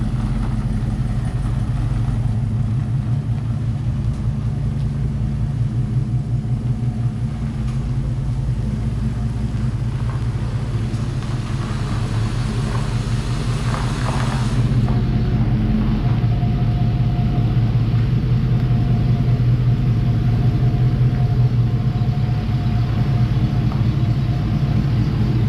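A 1971 Chevrolet Camaro engine runs steadily, its deep, loud idle rumble close and continuous for the whole stretch, with no voices over it.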